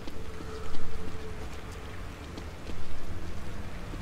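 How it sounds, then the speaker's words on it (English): Rain pours steadily in the survival horror game The Evil Within, a dense continuous patter with low rumbling underneath that swells and eases in waves. "Rain is gonna wash away any evidence."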